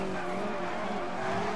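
Engine exhaust of a Porsche 918 Spyder Concept racing in Need For Speed: Most Wanted (2012), a steady, dense roar that continues unbroken throughout with no pauses, loud and close, with no voices over it.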